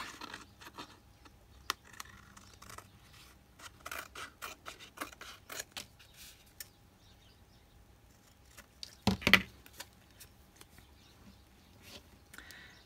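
Scissors cut a piece of paper or fabric for a junk journal tag, producing quiet, close snips in uneven clusters with handling rustles between them and one louder rustle near the end, no voices.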